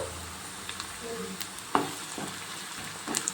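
A green chili fries in a pan for mushroom curry, giving a soft, steady sizzle with a few light clinks and stirring taps.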